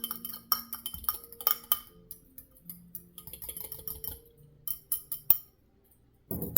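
Metal utensil clinking and scraping against a bowl while mixing pepper seasoning into a paste, a run of light, irregular taps and clinks close by with short pauses between.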